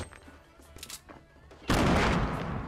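Gunshots in Fortnite Battle Royale, first as scattered faint pops under soft background sound, then a sudden loud burst of rapid fire that carries on to the end.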